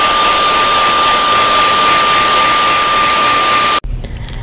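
A heat gun blows a loud, steady, close roar with a fixed whine while heat-setting wet paint on a custom-painted fishing lure, then cuts off abruptly near the end.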